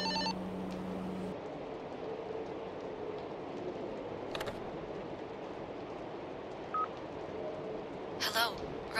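An in-game telephone sounds in the horror game Fobia – St. Dinfna Hotel: a steady tone opens, followed by scattered electronic beeps and clicks over a low background hum. A faint voice may be present.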